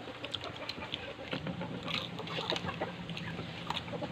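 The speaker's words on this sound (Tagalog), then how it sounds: "Agawin na yung mga manok." Chickens cluck in a farmyard, with repeated soft clucks and short calls scattered over a continuous low background murmur.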